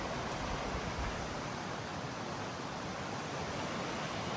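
The Little Meander River rushes steadily beside a bridge on a trail to waterfalls, a constant broadband wash of flowing water with no pauses or voices.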